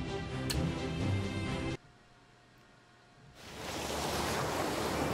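Rushing sea waves on the Caribbean Sea in the Captain Blood video game, a steady broadband surf that swells in after a quieter gap, heard alone without voices.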